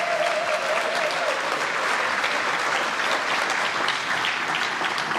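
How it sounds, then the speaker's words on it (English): Steady, loud applause from a gala audience at a foundation fundraiser in a flight museum, continuous dense clapping that holds evenly from start to finish with no talk. "Let's give everybody a round of applause"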